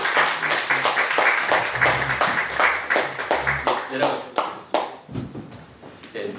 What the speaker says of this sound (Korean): 우리 2부 발제자분들께 다시 한번 큰 박수